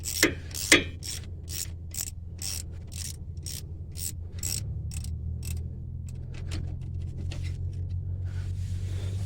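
A ratchet working loose a front brake caliper bolt on a 2004 GMC/Chevy 1500 pickup, giving a run of sharp rhythmic clicks that slow and then fade into a low mechanical hum.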